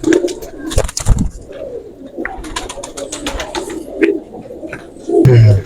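Banky pigeons coo in soft, low repeated calls amid a busy background of rustling, fluttering and handling noise, close by.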